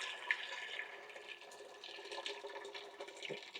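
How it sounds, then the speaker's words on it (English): Boiling water pours into a pot for homemade chicken broth, a steady splashing gush filling the vessel, moderately quiet and close, with no talking over it. "first of all we're just going to put some boiling water"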